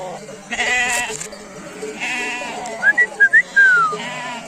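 Several sheep and lambs bleat in wavering calls, some overlapping, alongside a few short high whistle-like notes near the end.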